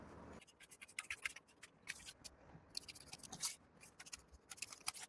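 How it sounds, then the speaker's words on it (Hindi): Scissors cutting a paper blouse pattern for simple sleeves, sized for a 38-inch bust, with a dense run of crisp snips and paper scraping, close and quiet, no talking. "ये सिंपल स्लीव्स की कटिंग है। हम इसको काट लेंगे।"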